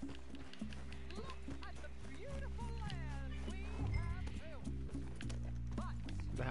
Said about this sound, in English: That horse's name is Freckles.